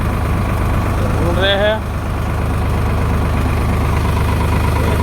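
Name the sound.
tractor engine idling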